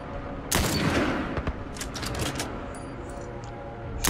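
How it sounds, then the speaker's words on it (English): Rapid gunfire rings out in The Last of Us as shots are aimed at a vehicle's tire, a loud opening burst followed by a rattling string of fast, close shots and one more blast at the end. "shoot the tire, shoot the tire."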